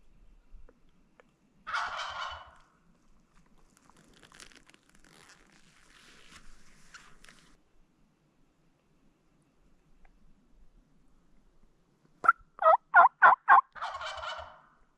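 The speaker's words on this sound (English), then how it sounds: "it sounds like a full gobble now" A wild turkey gobbles in spring woods, a young male: one burst early on, then a louder rattling gobble near the end. Both ring out moderately distant in an otherwise quiet outdoor setting.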